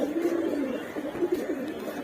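Pigeons coo steadily in a loft, a soft low warbling murmur that carries on continuously for a couple of seconds at moderate closeness, with no talking over it.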